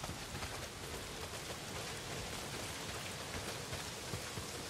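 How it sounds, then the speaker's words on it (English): Heavy downpour in the video game Days Gone, a dense, even roar of rain hitting surfaces throughout, with no voices over it. "Well, not if it's pissing down rain."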